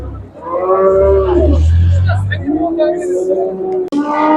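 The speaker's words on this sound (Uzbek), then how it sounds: "Hali mollar, qo'ylar kirib kelyapti." At a livestock market in Shahrisabz, cattle moo loudly and close by, with long drawn-out calls overlapping each other, while people talk in the background.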